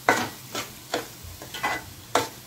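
Egg curry masala being stirred as it fries over a medium flame, about six rhythmic scraping strokes of a spoon against the pan, close and soft, with no talking.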